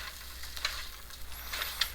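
Close sizzling of coconut rice stir-frying in a pan, with a few light scrapes and taps of a utensil against the metal.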